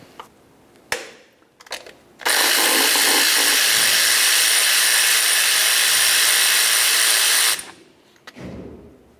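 Power tool spinning out a 12mm bolt on a 2009-2010 Pontiac Vibe during a knock sensor replacement, a loud, steady, whirring run of about five seconds, framed by a few short clanks and handling noises.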